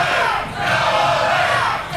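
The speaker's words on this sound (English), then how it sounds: "Crowd's called him to go away." Wrestling crowd chanting in unison at a live NWA event, a loud, dense wall of massed voices rising and falling without a break.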